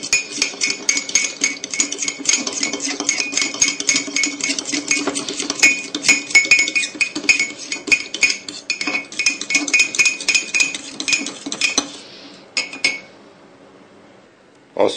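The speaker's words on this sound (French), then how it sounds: "pour mélanger, vous mieux prendre une fourchette afin que le mélange soit meilleur" A fork briskly beats mug cake batter in a mug, a continuous fast clinking and scraping against the ceramic, close and fairly loud, slowing and stopping near the end.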